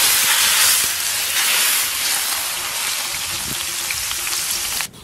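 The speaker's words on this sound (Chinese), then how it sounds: "泼上热油。" Hot oil is poured over a golden soup of fatty beef, pumpkin and vermicelli topped with green and red peppers, garlic and rattan pepper, and it sizzles loudly and steadily before cutting off sharply near the end.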